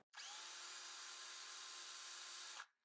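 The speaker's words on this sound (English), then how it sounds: "I'll run the drill" A power drill whirs steadily at high speed for a couple of seconds, starting abruptly and cutting off with a brief wind-down.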